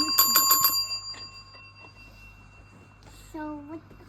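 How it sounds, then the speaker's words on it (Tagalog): A small bell rings in a quick burst of several bright dings, then a single fainter ding follows a few seconds later, with quiet background in between. "There's a bell."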